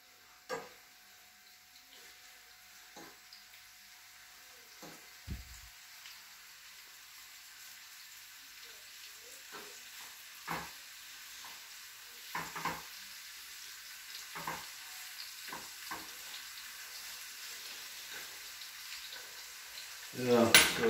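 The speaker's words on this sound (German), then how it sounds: "So, so ein bisschen brutzeln." Quiet, steady sizzle of meat frying, with occasional clinks and scrapes of a utensil stirring in the pan, growing a little louder toward the end.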